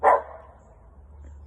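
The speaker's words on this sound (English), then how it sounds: "That's Bella, my dog." Bella the dog gives a single short, muffled bark nearby, followed by faint room hum and near silence.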